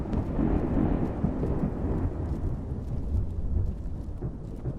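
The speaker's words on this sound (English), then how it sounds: "That thunder is crackling out there." Low rolling thunder rumbles continuously through a stormy night in the video game Skyrim, with a dense, steady roar and rain-like wash, loud and close throughout with no talking.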